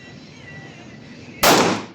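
A single loud, close gunshot cracks out at an indoor shooting range at Taksim Shooting Club, firing at a 10-metre target, bursting sharply after quiet room hum and ringing briefly as it decays.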